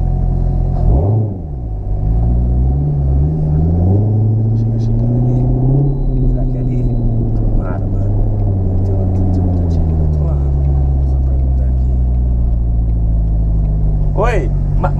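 A Corvette's engine rumbles loudly and steadily close by, rising and falling as it revs, with people talking over it.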